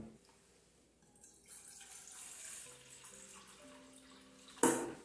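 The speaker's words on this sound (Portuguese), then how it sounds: "Então, vamos começar colocando a água." Water pours into a cooking pot for a chicken soup with chicken strips and vegetables, a steady splashing fill that builds gradually and ends in a sharp, loud clank near the end.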